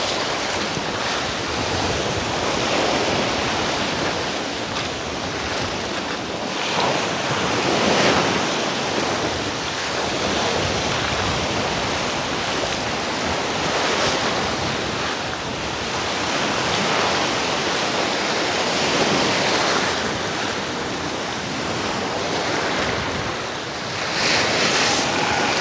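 Ocean waves wash onto Kamandag Beach in Ternate, Cavite, making a steady, close surf that swells and recedes in slow surges, with wind buffeting the microphone and no talking.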